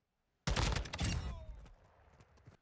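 TAQ 56 rifle firing in Modern Warfare 2 without a barrel attachment, a sudden rapid burst of loud automatic shots lasting under a second, then a fading echoing tail.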